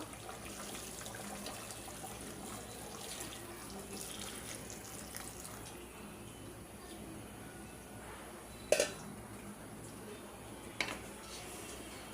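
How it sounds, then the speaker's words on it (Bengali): Hot water runs steadily into a pot of beef and potato curry, a quiet continuous pour with two short clinks of utensils near the end. "এখন গরম পানি দিয়ে দিব"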